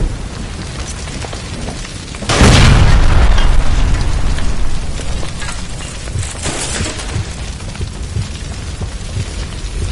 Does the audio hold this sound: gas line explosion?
yes